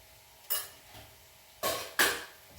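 Spoon working through sweet potato curry in a pot, four distinct metallic clinks and scrapes against the pot, soft and close, separated by quiet gaps.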